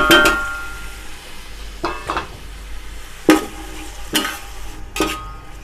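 A spoon stirs chopped tomatoes and green chillies in a cooking pot for chicken pulao, giving a few distinct scraping clanks against the metal over a soft sizzle, with no voices.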